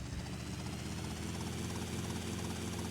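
In the video game GTA Vice City, a helicopter lifting off gives a steady, dense rotor and engine drone that stays constant throughout, with no talk.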